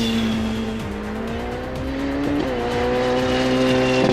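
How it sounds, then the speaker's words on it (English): A 2019 Ferrari 488 Pista engine revs loud and close, its pitch climbing and settling in sustained surges without any speech. "That's the sound of Ferrari's new 488 Pista waking up."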